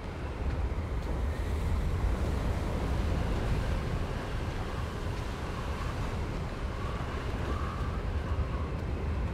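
Steady wind gusting in the Hogwarts Legacy video game, a broad continuous rushing roar that holds loud and even throughout, with no talk over it.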